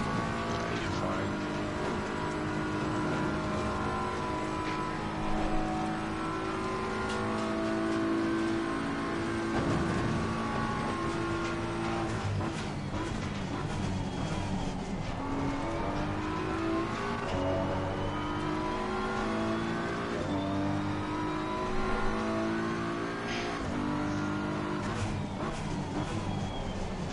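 A race car in the Assetto Corsa Competizione video game at the Bathurst 12 Hour drives laps, its engine droning and rising and falling through gear changes, continuous over a long stretch, with occasional voices over it.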